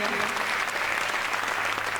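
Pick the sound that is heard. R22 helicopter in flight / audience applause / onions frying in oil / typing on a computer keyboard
audience applause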